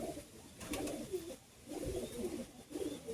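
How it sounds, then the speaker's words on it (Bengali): Pigeons coo nearby in soft, low, rolling calls, repeated three times at a relaxed pace against a quiet background. "পায়রা বিশাল অ্যাক্টিভ"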